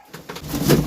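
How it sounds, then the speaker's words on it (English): A pigeon trapped in an attic box gives a short, soft coo, close and alone, with faint rustling inside the box. "Bird in a box."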